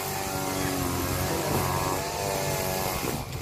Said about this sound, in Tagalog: Maingay ang grass cutter.